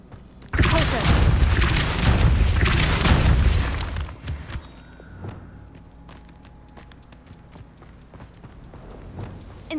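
A Pulso force blast in Hogwarts Legacy hits loud and broadband for about three seconds near the start, then cuts off. Scattered thuds, clatter and faint ambience follow it.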